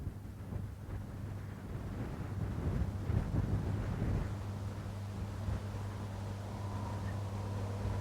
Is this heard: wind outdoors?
yes